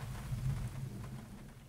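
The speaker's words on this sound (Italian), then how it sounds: "e qua ha ripreso a piovere" Steady rain falling outdoors in Palazzolo Acreide during a thunderstorm, a soft continuous hiss with low rumbling underneath, heard alone without voices.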